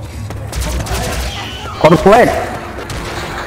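Gunfire in the video game Left 4 Dead 2 crackles as rapid bursts of shots mixed with game noise, while a voice speaks briefly over it.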